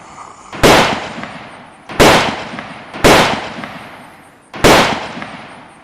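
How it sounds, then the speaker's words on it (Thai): Four loud, sharp gunshot blasts in the game Unturned, evenly spaced about a second apart, each with a short decaying tail, and no voices. "ฮ้ยมดิปืนดีนะ แต่เสียงมันเงียบๆฮะนะ"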